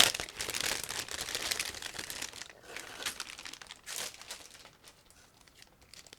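Close, crinkly rustling of a plastic bag of model kit sprues being handled and pulled open in several bursts that fade toward the end.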